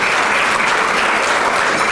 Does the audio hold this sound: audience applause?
yes